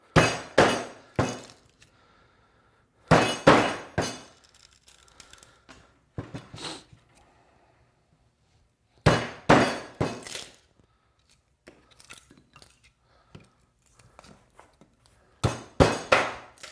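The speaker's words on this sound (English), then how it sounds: "But with cedar, it's just so easy to chisel." A hand chisel strikes into cedar wood for a mailbox post, sharp close knocks in quick clusters of three to five hits separated by pauses, with quieter scraping and small taps between bursts.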